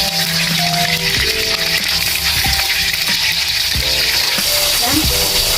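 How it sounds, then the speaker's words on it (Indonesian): Marinated tempe and tofu fry in hot oil in a wok, a loud continuous sizzle and crackle close by, with clinks and scrapes of stirring and a voice speaking over the frying. "kita masukkan tempe dan tahu yang telah dimarinasi"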